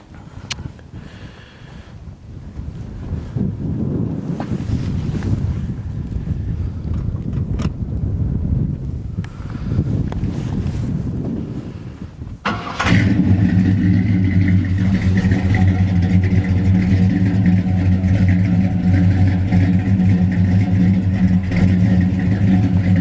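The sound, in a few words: 1955 Chevrolet Bel Air engine starting and running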